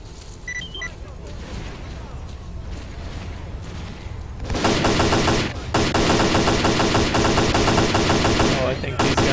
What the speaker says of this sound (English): Are those guys in that scrapyard over there still shooting at me?